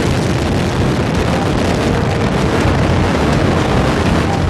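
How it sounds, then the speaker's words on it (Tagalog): A loud, sustained roaring rumble fills the whole clip, broad and thunderous, from the demolition blast and collapse of an old 20-story building in Houston, Texas, heard through wind-buffeted noise. "Lumang 20-story building sa Houston, Texas, sadyang pinasabog ng demolition team."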